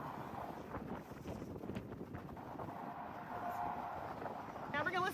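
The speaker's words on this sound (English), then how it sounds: "It's gotten suddenly very windy out here" Wind blows outdoors during a hands-on horse massage session, making a gusty, low buffeting rumble across the microphone while a person talks over it.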